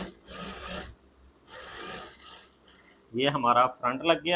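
A sewing machine runs in two steady buzzing stretches, stitching close along the border of a garment being sewn in a tailoring class. It stops briefly between the runs, and someone talks afterward.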